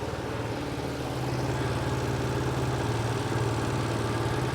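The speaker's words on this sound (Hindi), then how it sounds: "सो बहुत ही ज़्यादा अलग नोट के साथ में स्कूटर स्टार्ट होता है।" A Piaggio Vespa VXL dual-tone scooter engine idling after being started, a steady, close low throb with an even pulsing note that holds throughout.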